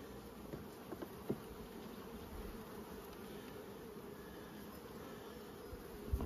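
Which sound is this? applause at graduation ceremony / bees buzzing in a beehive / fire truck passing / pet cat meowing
bees buzzing in a beehive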